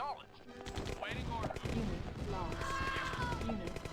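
A recon bike fires on an enemy building in the Command & Conquer video game, with a mix of moderately loud shots and blasts alongside other in-game effects.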